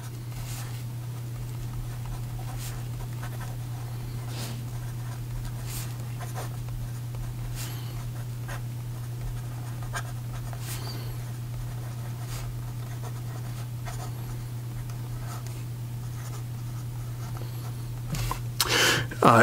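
A steel-nib fountain pen scratches across paper in a continuous soft, close writing stroke, with faint tapping strokes over a steady low hum and a brief louder rustle at the end.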